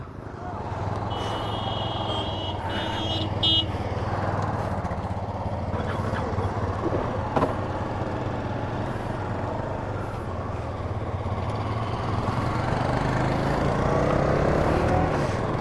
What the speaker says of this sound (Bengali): তো অনেক বাইক যাইতেছে অনেক টুরিং বাইক যাইতেছে